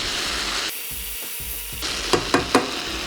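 Poblano pepper and cheese dip being stirred in a hot pan, a soft sizzle under the mixing and a few sharper scrapes of the spoon near the end.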